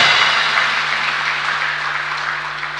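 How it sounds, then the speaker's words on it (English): Sustained crowd applause fills a hall at an official launch event, steady and dense for a few seconds with no voices over it. "Let's give her a big round of applause."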